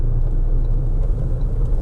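A 2015 Ford Transit Custom diesel engine idling, a steady low rumble held close and even throughout, with no voices.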